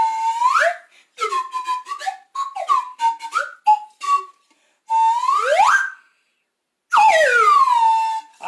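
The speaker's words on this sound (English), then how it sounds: "You went right on down with the whistle, didn't you?" A whistle sounds in a series of short toots and longer swooping notes, several clearly sliding down in pitch, loud and close during a children's playtime session, separated by brief silences.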